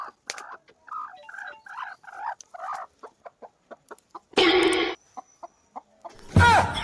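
Chickens clucking in a run of short, rhythmic calls, fairly close, broken by two loud, harsh bursts of noise near the end.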